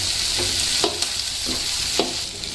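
Spice masala for soya bean Manchurian sizzles steadily in a pan, with a few soft scrapes of stirring spread through the short stretch and no talking.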